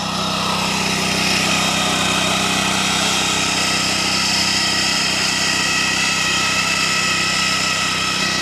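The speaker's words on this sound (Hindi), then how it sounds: "दबके चल रही है बिल्कुल ज़मीन पे, ट्रैक्टर की तरह जुताई कर रही है मशीन" A 10 HP diesel back rotary power weeder tills soil, its engine running loud and steady with a constant drone and rattling churn throughout, close by and with no voices.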